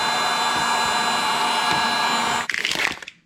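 A heat gun runs as a steady, loud blowing roar while shrinking heat shrink tubing over vehicle light wiring, then cuts off abruptly near the end, leaving a brief rattling tail.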